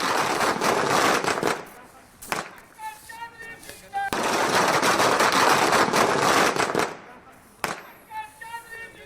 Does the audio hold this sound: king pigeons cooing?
no